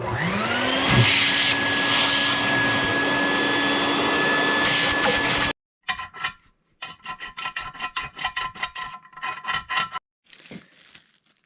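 A vacuum runs loud and steady for about five seconds, sucking debris from the threads of an intake manifold on a 1993 Chevy Silverado K3500 with a 7.4-liter engine, then cuts off, leaving scattered close scraping and rubbing.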